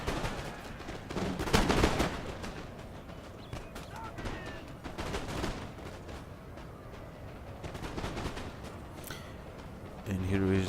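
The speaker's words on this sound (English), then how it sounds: "my guys here, they are shooting above my guy's head" Musket volleys in a Napoleon: Total War battle crack out in scattered bursts, some louder and nearer, others distant, over continuous battlefield din with a voice talking throughout.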